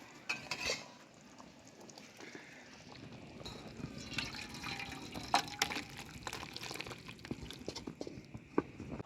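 Cooked chicken kosha, a thick spiced chicken curry made with ground masala, scraped and poured from a pan, giving wet slops and clinks of a spoon against metal, faint and close, with no talk.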